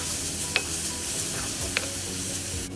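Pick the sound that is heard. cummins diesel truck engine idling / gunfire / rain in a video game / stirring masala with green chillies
stirring masala with green chillies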